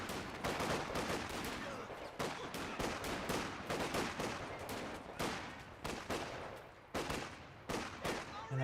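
Sustained infantry gunfire in a Company of Heroes 2 match, with sharp rifle and machine-gun shots crackling in irregular bursts and a few heavier thuds, while a voice talks faintly underneath.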